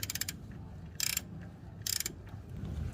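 A ratchet works a 10mm bolt off a Nissan 350Z transmission, with three short bursts of rapid clicking separated by pauses, close and fairly quiet.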